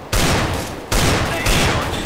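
Desert Eagle pistol gunfire in a video game, loud dense bursts of shots with a brief break near the start and another partway through, filling the whole moment.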